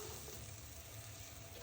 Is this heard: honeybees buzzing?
no